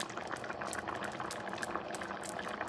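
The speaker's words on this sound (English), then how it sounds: "Let it boil for a minute or so." Rice with shrimp boils in a big pot, a dense continuous bubbling and gurgling, close and steady with no talk.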